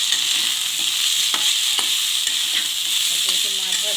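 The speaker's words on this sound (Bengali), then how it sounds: "তাই জন্য মাছটা ভেজে নিয়ে ফুলকপি আলুটা ভেজে নিচ্ছি।" Cauliflower and potato sizzle steadily in hot oil left over from frying fish, with a constant loud hiss and occasional spatters and stirring scrapes near the end.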